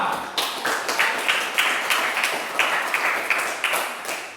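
A classroom group of students claps for group 2 after a presentation, a steady, fairly loud patter of many hands lasting throughout.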